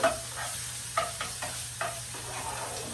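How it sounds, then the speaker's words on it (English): Mushroom bolognese ingredients are stirred in sizzling oil, a steady frying hiss broken by several scraping strokes of a utensil against the pan, close and clear. "I'm just going to kind of stir this around in the oil"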